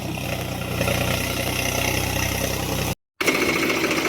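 A tractor engine idles with a low, even rumble, cutting out briefly near the end before the running noise returns.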